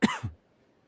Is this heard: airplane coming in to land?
no